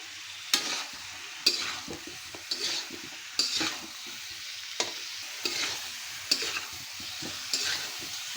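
Potatoes and tomatoes fry in a sizzling spice paste, stirred with repeated scraping strokes against the pan every second or so, a steady close hiss between the strokes and no talking.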